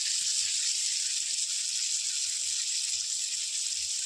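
Grated garlic sizzles in a pan of fish curry cooking with cauliflower and turmeric, giving a constant bright, hissing fry at even loudness with no speech.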